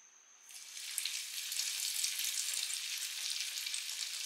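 Chicken pieces hit hot oil in a pan over a medium gas flame, and a loud, steady broadband sizzle of frying starts after a brief quiet moment and continues evenly.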